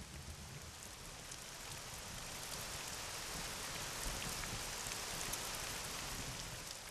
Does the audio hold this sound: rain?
yes